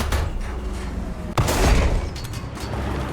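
Tank cannon fire in War Thunder from a B1 ter tank: a single sharp, loud blast midway, followed by a rumbling tail over steady engine and battle noise.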